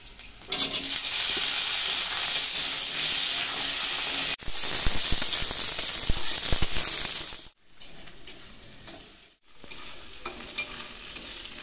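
Potatoes added to fried onions, dry chilli and black cumin sizzle loudly in a pan for a tengra fish curry, with steady frying hiss and stirring scrapes, briefly cut by two short pauses.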